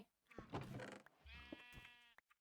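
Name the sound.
sheep bleating in Minecraft video game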